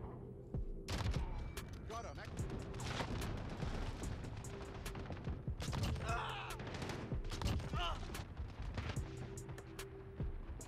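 Shotgun blasts in Modern Warfare, fitted with range-extending attachments, booming in repeated bursts amid dense gunfire and explosions across a busy multiplayer match, with talk underneath.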